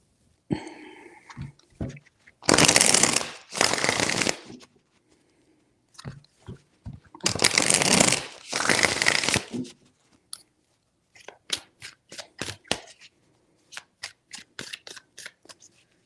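Tarot cards being shuffled by hand: two long, loud riffling bursts followed by a quick run of short, crisp taps and flicks, close and dry with no talk.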